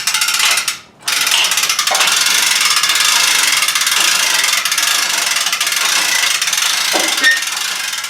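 A zero-turn mower lift being cranked up like a winch: a steady, rapid ratcheting click runs for about eight seconds, close and clear, with a brief pause near the start.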